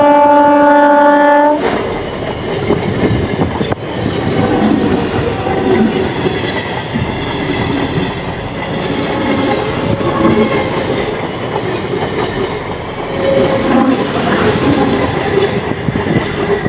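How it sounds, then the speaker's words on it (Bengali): A train passes close by. A loud horn blast opens, then a heavy, continuous rumble and clatter of wagons rolling past, with occasional wheel squeal. "দেখতেই পাচ্ছ ট্রেনটা চলে গেল।"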